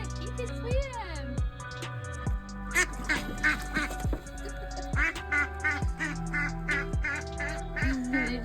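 A pet duckling near water gives repeated loud, nasal quacks in irregular bursts, close by and clear against a steady low background hum.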